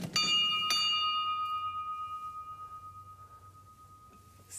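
A historic hand bell at Palais Coburg in Vienna, once rung to announce arriving guest carriages, is struck twice in quick succession, then its bright metallic tone rings on and slowly fades over several seconds.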